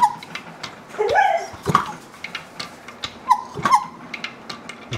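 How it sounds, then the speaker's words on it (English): Reed valves whistle on a freshly rebuilt 1972 Yamaha AT2 two-stroke motocross engine as it is turned over, giving short squeaky whistles between dull mechanical thumps, close and fairly loud. "You can hear the reed valves."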